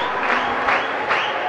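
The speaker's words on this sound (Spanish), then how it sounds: "La gente de Chivilcoy aplaude la victoria de Racing." Spectators at an Argentine league basketball game in Chivilcoy applaud a Racing de Chivilcoy win, steady dense clapping from the crowd filling the arena.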